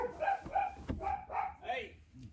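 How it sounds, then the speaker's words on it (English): A dog barks a few times in short bursts, close by, mixed in with people talking indoors. "Sorry about the dog barking"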